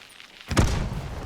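After a quiet moment, a sudden deep boom bursts out and rumbles away, a single explosion in the game Hunt: Showdown.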